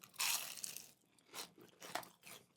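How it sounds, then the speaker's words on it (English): A loud crunchy bite up close into a Red Robin brisket BBQ burger, followed by a few softer crackly chews at an uneven rhythm. "I'm going to bite this just to see if I can get some semblance of a crunch"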